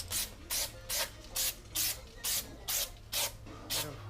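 Anti-seize compound brushed onto a brake part of a 2014 Honda Accord sedan during a rotor and pad job, made up of nine steady, evenly spaced scraping strokes, close and fairly quiet, with a low hum underneath.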